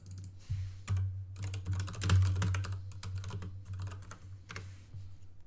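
Rapid bursts of typing on a computer keyboard, close and fairly quiet, with short pauses between flurries of key clicks and no talking.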